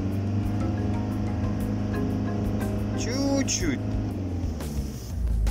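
A 1996 Mazda MPV with a WLT diesel engine idles up at about 3000 rpm, a steady mechanical hum with engine harmonics, joined by brief whining tones and a short spoken remark nearby.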